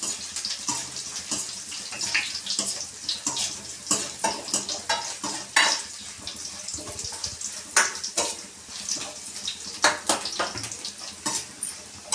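Garlic cloves fry and sizzle in a pan, crackling in bursts and spatters, with repeated scraping and stirring strokes running throughout, close and moderately loud.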